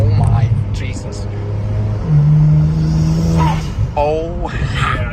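A BMW with an N54 engine and Stage 2+ hybrid turbochargers drones loudly from inside the cabin as it pulls, a low steady engine note heard under excited talking.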